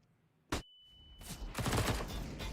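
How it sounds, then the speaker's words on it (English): SMG gunfire in Counter-Strike: Global Offensive during a pro match on Nuke: one sharp shot, then a dense burst of rapid automatic fire over a sustained stretch, loud and unvoiced. "taking some shots away with that SMG at a long range"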